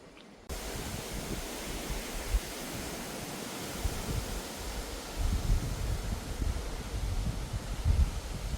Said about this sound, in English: The wind's blowing the trees.